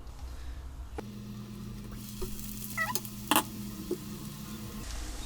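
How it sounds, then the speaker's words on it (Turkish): Two chopped onions fry in plenty of oil, giving a soft, steady sizzle with a faint hum and a few light clinks and scrapes, with no talking. "İki baş soğanımı koyuyorum. Soğanlarım biraz ölsün."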